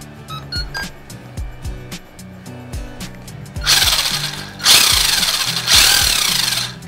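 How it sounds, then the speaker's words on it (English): A radio-controlled car's electric motor, fitted with a replacement electronic speed controller, ticks and clicks on the bench, then breaks into loud whirring bursts as it spins forward and in reverse. "motor seems to be getting power"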